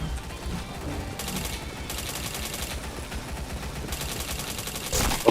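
Rapid automatic gunfire in a shooter video game comes in repeated bursts over a steady background of game sound, ending with a sharp louder shot.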